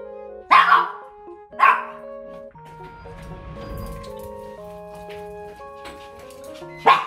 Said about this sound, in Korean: 일단은 잠깐 짖기는 했는데 엄청 좋아졌어요.